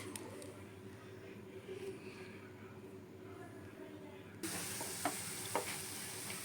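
Boondi balls for sweet-shop style bonde frying in oil, a faint, soft bubbling at first that jumps to a brighter, louder sizzle partway through, with a few sharp crackles.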